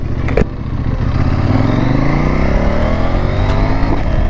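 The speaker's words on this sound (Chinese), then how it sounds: "刚刚快排从1档到2档那一下" A CFmoto 800NK motorcycle accelerates hard in rain mode, its engine note climbing loud and close, then dropping briefly as the quickshifter clicks from first into second before rising again.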